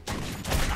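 Enemy gunfire in the video game Metro 2033 lands as a short, dense burst of rapid shots, loud and close, lasting under a second.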